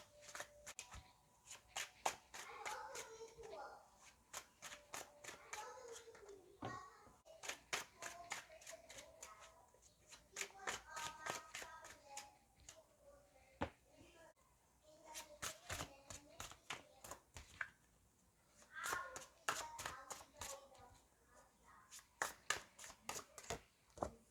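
Tarot cards being shuffled by hand for a pick-a-card reading, with rapid riffling bursts and soft slaps repeating in clusters across the whole stretch, close and crisp, with no talking.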